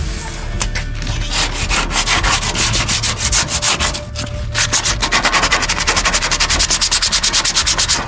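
Car body work being sanded by hand, a loud, close scraping rub in fast, regular back-and-forth strokes that quicken into a steady rhythm toward the end.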